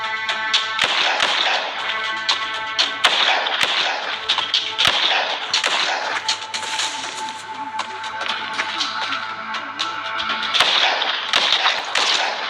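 Rapid gunfire in a shooting video game, with sharp shots cracking in bursts and single reports over steady game music and ambience.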